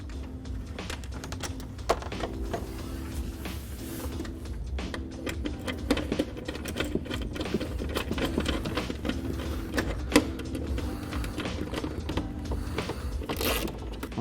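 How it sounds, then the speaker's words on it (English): A bolt is tightened through the bushing of a carbon fiber X-brace on a C8 Corvette Coupe, producing a continuous run of quick, close mechanical ratcheting clicks throughout, with no speech. "As I tighten it, I'm centering the bushing with the bolt."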